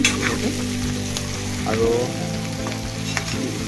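Meat frying in a pan at home, a steady close sizzle and crackle with occasional stirring scrapes, and a brief spoken word over it.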